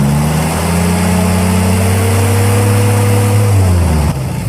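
A Willys engine is held at raised RPM, giving a loud, steady droning hum that stays even for several seconds and then drops slightly near the end.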